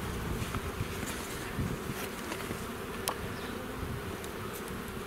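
Honeybees buzzing around an opened hive during an early March inspection, a dense continuous droning swarm close by with occasional sharper passes of individual bees, no voices.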